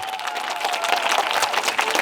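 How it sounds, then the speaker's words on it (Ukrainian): Audience applause for singer Oksana Mukha at a performance of the Ukrainian anthem, dense sustained clapping from a sizeable crowd, steady and fairly loud throughout. "бурхливо, бурхливо оплески"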